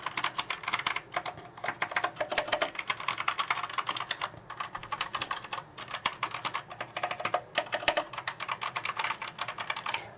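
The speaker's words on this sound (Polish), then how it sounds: "Nie jest to oczywiście klawiatura tak cicha jak membranówki, natomiast jak na mechanika też nie jest jakaś specjalnie głośna" Rapid, continuous typing on a Tesoro Excalibur mechanical keyboard, with crisp clacking keystrokes in quick bursts and brief pauses, heard up close with no talking.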